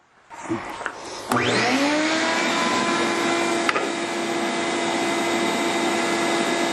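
A woodworking machine cuts an electric guitar neck. After a couple of knocks it spins up with a rising whine, then holds a loud, steady drone.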